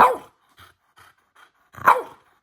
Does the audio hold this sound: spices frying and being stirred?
no